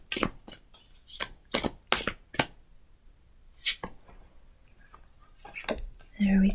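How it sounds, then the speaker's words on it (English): Tarot cards shuffled by hand in a series of sharp riffling bursts, several quick close snaps in a row, then a pause and a few more, with soft talking between them. "as I shuffle out these cards"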